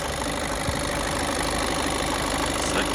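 A 1.6 TDI diesel engine in a 2019 facelift Skoda Octavia A7 idles steadily, a smooth, even rumble with a low knocking texture, close and continuous with no talking.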